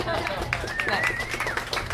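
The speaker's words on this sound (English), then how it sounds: "You can clap now." An audience at a Theology on Tap talk in a bar claps steadily, a scattered patter of applause mixed with talking voices and room chatter.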